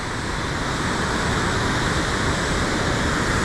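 Water flows toward Madhuri Lake in Arunachal Pradesh in a loud, steady rushing roar, dense and continuous like a nearby cascade, with no voices.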